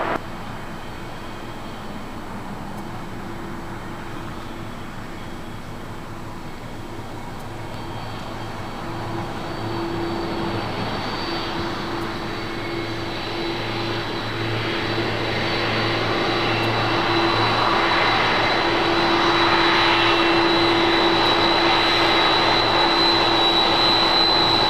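A jet airliner arriving or departing at Los Angeles International Airport gives a broad, steady engine roar that slowly swells louder over the whole stretch, with no voices.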